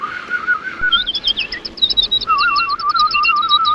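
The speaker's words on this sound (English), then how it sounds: "But I hit this bell, and I guess it's a universal sound." A bicycle bell on a custom Sun Seeker Fat Tad recumbent trike rings with a whirling, warbling tone, rapid rising and falling chirps that sound much like a songbird, loud and close with no talking.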